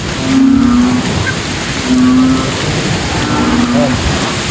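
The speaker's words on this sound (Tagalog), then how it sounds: "lumalakas naman yung ulan" Heavy rain pours in a dense, loud steady hiss close by, with faint tonal sounds recurring above it.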